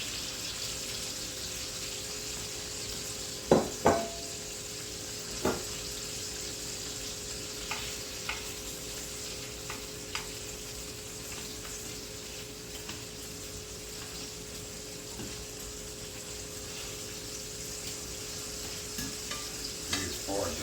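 Shrimp with tails on sizzle softly in a pan for a brandy cream sauce, a steady low hiss with a few sharp utensil clinks and taps scattered throughout.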